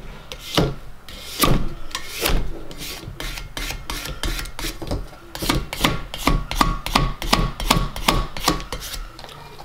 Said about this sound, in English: you want to take your card and start pushing it down